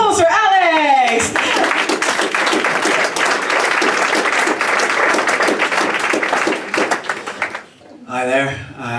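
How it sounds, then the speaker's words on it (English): Loud, sustained audience applause with scattered cheers fills a rally hall at a Just Stop Oil climate event in Manchester, the dense clapping running for several seconds before fading, with a voice speaking briefly at the end. "Round of applause for Alex!"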